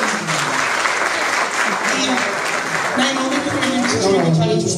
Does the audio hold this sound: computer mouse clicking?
no